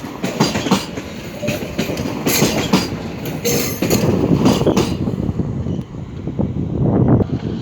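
A Newag Impuls electric multiple unit rolls into Warszawa Wschodnia station, its steady rumble and wheel clatter over the track joints filling the platform. There are squeals and rushes of passing air, loud and close, with no speech.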